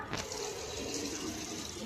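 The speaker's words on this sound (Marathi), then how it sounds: "भरा भरा पाणी भरा." Water running steadily into water bottles as they are filled, a continuous close splashing and gurgling rush that fills the whole stretch with no talk over it.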